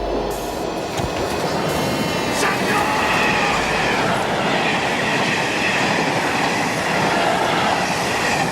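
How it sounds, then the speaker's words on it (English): Express train rushing past a station platform, a loud continuous rumble with rhythmic wheel clatter and faint metallic squeal, close and sustained for the whole stretch without speech. "Stand clear of the platform edge. It's the Express."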